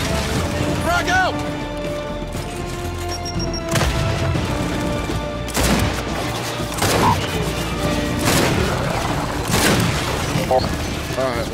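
Frag grenade blasts and gunfire in Gears 5, with several loud broadband bursts roughly every one to two seconds over steady combat noise and music, with voices talking in the background.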